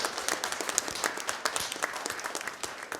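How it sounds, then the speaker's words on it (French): Steady applause from an audience at a French broadcast event, dense even clapping that carries through the whole stretch without letting up. "On peut vous applaudir et vous remercier pour votre participation."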